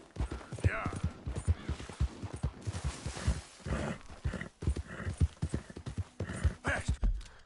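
A horse gallops in a PS4 video game, quick pounding hoofbeats in an uneven rhythm, close and fairly loud, with a voice talking over them.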